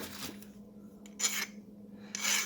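A hand file rasps burrs off a metal pin from a chipper shaft in a few short, close strokes separated by quiet pauses.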